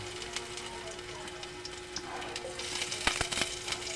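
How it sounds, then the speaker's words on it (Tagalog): Shallots, garlic, onion and ginger sauté in a hot pan for pancit udong, giving a steady close sizzle and crackle throughout, with a few sharper spits and pops near the end. "Tayo igigisa na natin yung lamas, bawang,"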